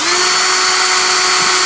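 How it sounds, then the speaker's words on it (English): A power drill whines at a steady pitch, boring out pop rivets holding a light fixture on a Casita travel trailer, one continuous close and loud run with no talking. "they have put some pop rivets in here, so we're going to attempt to drill this out"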